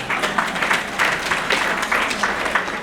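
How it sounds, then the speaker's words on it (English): Women applaud at a women's club fashion show, a lively crowd clapping with brisk, uneven pulses of hand claps, close and fairly loud throughout. "applaud yourself, ladies"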